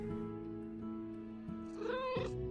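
Cats in the quilting puzzle game Calico give a drawn-out meow near the end of the clip, rising over soft game music and a few light taps.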